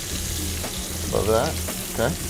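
Taco filling frying in a pan, a steady broadband sizzle throughout, close and fairly loud, with brief speech over it.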